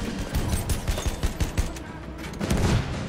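Rapid automatic gunfire in the Battlefield 1 video game, dense bursts of shots loud and close with overlapping game battle noise, a voice faintly mixed in.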